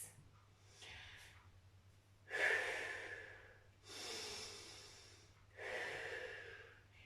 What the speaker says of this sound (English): Hear your breathing.